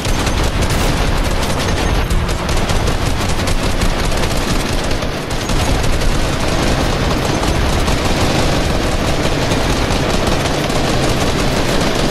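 Rapid, continuous assault rifle gunfire from a squad in a video game shooter fires at close range, loud and dense for the whole stretch with no pauses.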